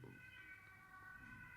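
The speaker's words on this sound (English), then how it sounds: "there is a siren going outside." A distant emergency siren outside wails as a faint, steady tone over a quiet indoor room.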